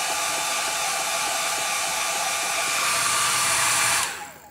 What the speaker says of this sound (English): I'm just using a regular hair dryer to dry the layers of paint in between